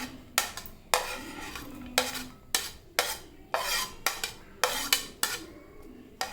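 Chopped green chilli and onion are stirred together in a bowl for a Kerala-style egg omelette, giving repeated sharp scraping and clinking strokes at a steady, brisk rhythm, close and fairly loud with no talking.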